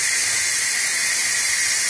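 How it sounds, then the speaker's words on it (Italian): Steam hisses steadily from the pressure valve of an electric pressure cooker cooking pasta with pancetta, a constant bright, close venting rush with no pauses. "Se volete accelerare lo sfiato della pentola,"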